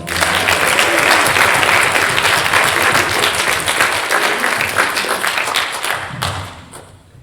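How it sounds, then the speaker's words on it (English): Audience in a gospel worship gathering bursts into loud, sustained applause after a song, dense clapping filling the room for about six seconds before quickly tapering off. "Let's do another round of applause."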